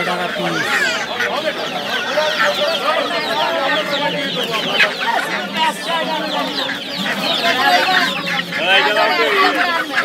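Many chickens, including desi hens, chicks and fighter birds, cluck and chirp continuously and close by at a crowded stall in Galiff Street Pet Market, Kolkata, with people talking over the din.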